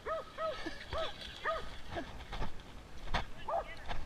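Working herding dogs bark in short repeated yips and woofs at a cattle-working scene on a ranch, several quick barks in bursts over outdoor background noise with a man calling out between them.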